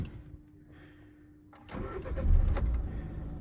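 A Volkswagen Caddy started with a key: a short cranking whir catches into an engine that settles to a steady idle, heard close up inside the vehicle, with no talking.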